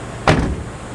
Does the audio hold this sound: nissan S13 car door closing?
yes